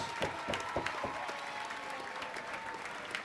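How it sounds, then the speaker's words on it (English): Arena crowd at a professional boxing match applauds the two fighters after eight rounds, a fairly distant wash of clapping with a few sharp nearby claps standing out and a steady tone running underneath. "a round of applause one more time for these two warriors"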